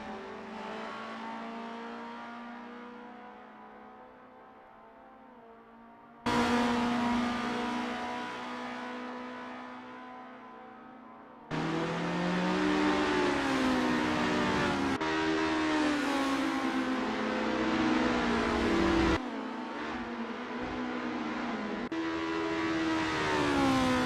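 Racing video game cars on the Lake Garnett 1963 circuit warming up before a race, engines droning and revving in long sustained passes, with new cars cutting in abruptly, loud and steady, no voices.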